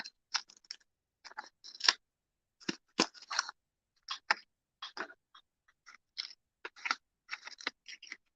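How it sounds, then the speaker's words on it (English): Scissors hand-cutting die-cut prints made on a Roland BN-20, with a steady run of close, crisp snipping strokes in short irregular bursts and quiet gaps between them, no voices. "And so these I'll just hand cut."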